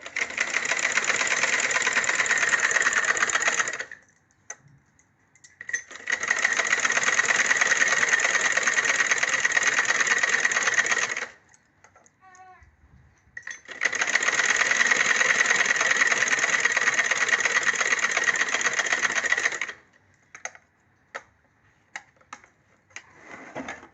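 Sewing machine running in three long continuous bursts of steady whirring, separated by short pauses with faint clicks, while double stitching the katori part of a blouse.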